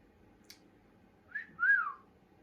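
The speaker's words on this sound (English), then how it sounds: "Can you whistle?" A person whistles a short two-part tune, a brief rising note followed by a longer sliding one, clear and close over a quiet background.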